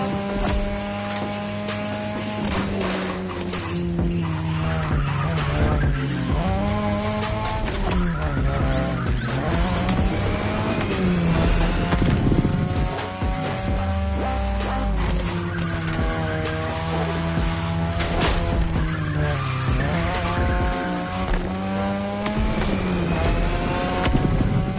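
Racing cars in The Crew Motorfest roar continuously with revving engines, gear shifts and repeated tire squeals and skids, loud and dense throughout.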